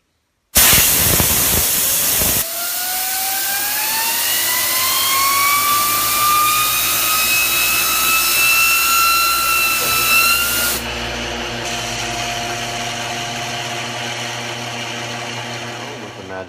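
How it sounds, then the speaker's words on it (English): Shop air drives a balanced Traxxas RC wheel up to speed, a loud rising whine with a harsh hiss that climbs steadily in pitch, then the air cuts out and the spinning wheel keeps humming on its own. "I'm going to ramp up the speed using the shop air to roughly 60 kilometers an hour"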